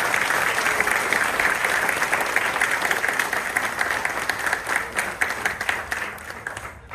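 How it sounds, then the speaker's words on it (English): An audience applauds dancers after a Hawaiian musical instrument and dance performance, steady full applause from a crowd, sustained and fairly even before tapering slightly at the end. "How about a round of applause for our beautiful dancers?"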